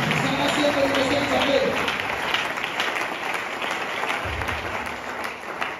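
A church congregation applauds a pastor at a French-language service, with steady, dense clapping from a large crowd throughout, fairly close and loud, with a voice calling out over it near the start.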